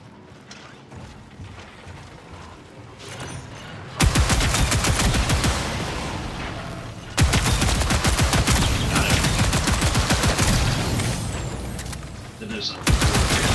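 Rapid bursts of gunfire from the video game Marathon, loud and dense in two long stretches, with quieter game noise before and a brief voice at the start.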